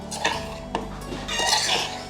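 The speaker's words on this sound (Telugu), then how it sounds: "సో ఈ మొత్తాన్ని ఒక్కసారి కలుపుకుందాము" A spoon stirs cucumber pickle spices in a bowl, giving a few close, light clinks and scrapes of metal against the dish.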